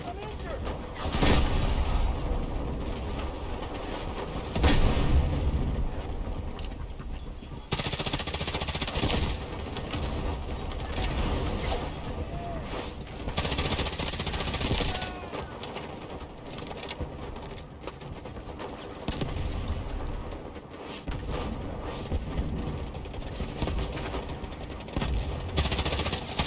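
Artillery barrage and rapid gunfire from the war video game Jump Ship, with heavy booms and continuous machine-gun bursts filling a dense, loud battlefield din throughout, plus faint voices mixed in.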